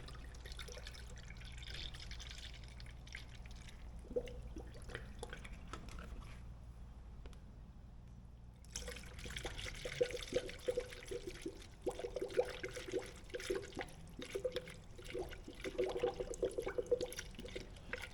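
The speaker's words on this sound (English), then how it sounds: "here's my 96 ounces of new coolant. Just fill in the radiator." New coolant poured from a jug into the radiator of a Lexus GX460, a steady liquid trickle and glug that grows louder and busier after a brief quiet spell, with dribbling and splashing close by.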